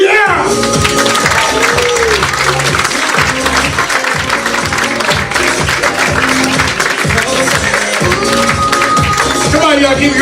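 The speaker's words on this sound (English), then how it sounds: "Give a warm Punchline applause for" Comedy club crowd at the Punchline clapping and cheering loudly for a comedian being introduced, the applause mixed with pounding rhythmic music and some voices throughout.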